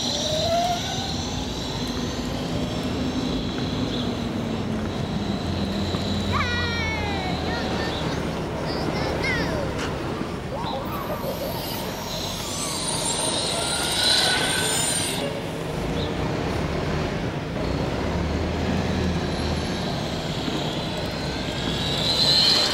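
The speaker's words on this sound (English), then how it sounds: "you're gonna hear what is the sound of my wheel" An electric bike's wheel rushes past at full speed, a broad whooshing roar with a brief rising and falling whine partway through, steady and fairly loud from start to finish.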